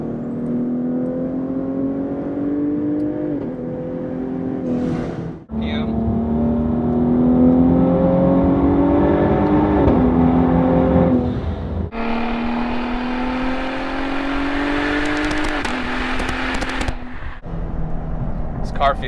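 A Cadillac CTS-V Sport with a Corsa axle-back exhaust pulls hard through third and fourth gear, its steady engine drone climbing in pitch with brief dips at each shift, loud and close for the whole stretch.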